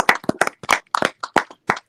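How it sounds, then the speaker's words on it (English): A small group gives a round of applause for themselves at a weekly rhythm and voice session, with about ten distinct claps spread irregularly, close and fairly loud, standing alone with no talk. "Give a round of applause."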